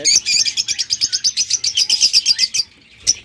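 Pet lovebirds or cockatiels, a breeding pair with yellow plumage and red eyes, chirp in rapid, close, loud bursts of tweets that run steadily for nearly three seconds, then pause before one last chirp.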